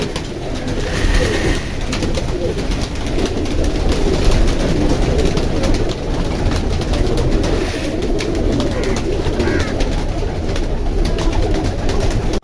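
A flock of hungry pigeons coos steadily in a loud, dense chorus, with rustling and other ambient noise. Someone speaks faintly under it.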